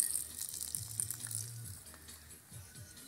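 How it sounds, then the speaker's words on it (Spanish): Water running onto tomato plants in hot weather, a soft, fairly faint gush and patter close by with low rumbling handling noises and no speech. "Estamos regando, que le hace falta agua."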